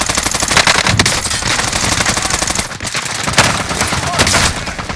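Sustained machine gun fire in Call of Duty Warzone on Rebirth Island: dense, continuous automatic bursts that fill nearly the whole stretch, loud and close, with only a brief dip in the middle.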